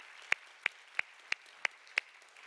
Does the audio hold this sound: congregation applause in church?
yes